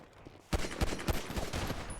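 Rapid gunfire in a PvP shooter video game, a burst of sharp shots in quick irregular succession after a brief quiet start, moderately loud.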